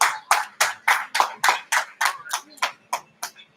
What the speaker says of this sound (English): The graduates, a round of applause for yourselves.